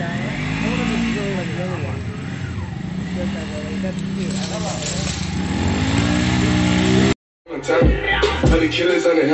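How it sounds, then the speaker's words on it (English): A motorcycle engine drones and revs continuously at close range, rising and falling in pitch, briefly cutting out before rumbling again. "He's treating that motorcycle like a dirt bike, huh?"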